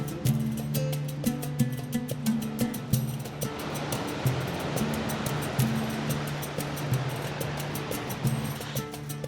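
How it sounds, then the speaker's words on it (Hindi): Strong rushing mountain water at a viewpoint on the trail from Andrab Lake in Kalam roars as a steady broadband wash, while a vehicle engine hums with droning tones through the first few seconds. "रास्ते में एक व्यू पॉइंट आता है जहाँ पे पानी का प्रेशर बहुत तेज़ है।"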